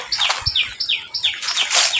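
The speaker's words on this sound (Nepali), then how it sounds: "चरा कराउँदैछ।" Birds chirping outdoors, repeated clear descending tweets close by in a quick series, with light background ambience.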